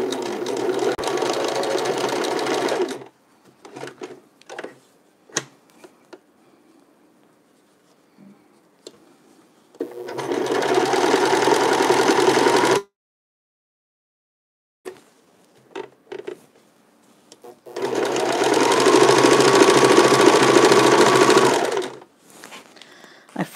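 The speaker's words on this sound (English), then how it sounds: "Even though this is a knit, I always start with a straight stitch and then I zigzag afterward." Sewing machine stitching knit wool sweater fabric for mittens, running in three long steady bursts of rapid whirring with quiet pauses and small handling clicks between them.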